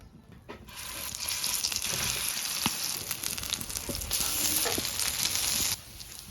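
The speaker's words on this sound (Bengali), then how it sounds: "এখন বড়াটা ভাইজে লমু।" Thankuni leaf fritters made with ground lentil and green chili batter frying in hot oil: a sustained crackling sizzle starts after a brief quiet moment, holds steady with small pops, then cuts off abruptly near the end.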